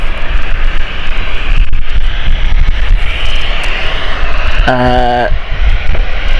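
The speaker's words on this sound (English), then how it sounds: "Air Transat's Airbus A330, folks. Inbound Toronto." Air Transat Airbus A330 inbound from Toronto at Gatwick Airport, a steady loud jet engine roar with wind noise, and a brief tonal electronic chirp near the end.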